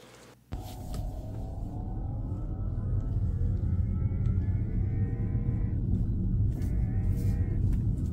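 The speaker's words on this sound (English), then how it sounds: "we noticed a loud noise coming from the rear drive unit only when going forward" A high-mileage Tesla Model S Performance drives forward with a loud, rising whine from the faulty rear drive unit over steady road rumble, the pitch climbing as it speeds up.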